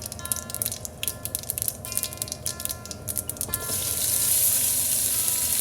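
Onions crackle and pop in hot oil for a Sri Lankan Batticaloa-style mutton curry, stirred with scraping clatter at first, then swelling into a steady, louder hissing sizzle.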